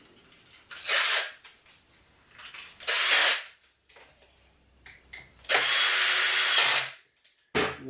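A power tool drives screws while a new grass trimmer is assembled, sounding in four short, loud whirring bursts separated by quiet gaps and small handling noises, the third burst running longest.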